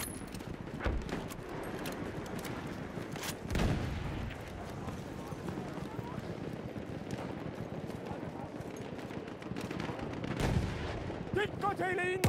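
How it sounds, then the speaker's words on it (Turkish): Machine gun and gunfire in a multiplayer war video game, bursts of shots and heavy booms scattered over a continuous battle din, with voices talking underneath. "Dikkat eyleyin, makinalı tüfek!"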